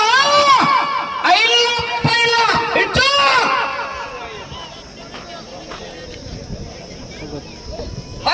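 Crowd shouting and cheering at a bull race, loud and busy with several bursts of raised voices early on, then fading into a lower, steadier hubbub of spectators.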